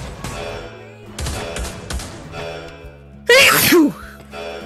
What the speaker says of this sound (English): Sneezed a little bit.